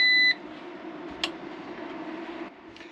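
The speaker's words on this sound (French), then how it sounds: "Donc je mets l'onduleur sous tension. Voilà le petit bip." A power inverter for a 24V 100Ah lithium battery gives a single short electronic beep as it switches on, clear and close, followed by faint background hum.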